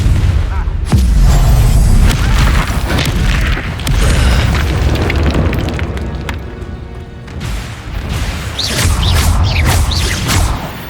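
The Confringo spell in Hogwarts Legacy bursts with a loud, deep explosive boom followed by rumbling debris and whooshing magic effects, with a voice heard briefly amid the blast.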